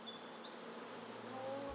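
Honey bees hum steadily at a hive holding workers, the queen and drones, a faint continuous buzz with a few higher wing whines drifting past and no voices.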